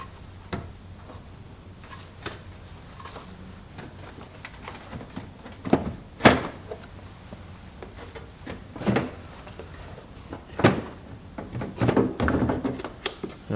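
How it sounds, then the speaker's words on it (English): A headlight assembly on a 2004 Lincoln Town Car is unclipped and pulled out, giving a sparse run of close plastic clicks, taps and sharp thunks over quiet background. A short burst of rattling follows near the end. "So we need to push this down and then pull the headlight assembly out"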